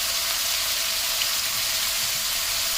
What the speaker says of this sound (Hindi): इस चिकन को आपने इतनी देर तक पकाना है जब तक इसका कलर वाइट नहीं हो जाता।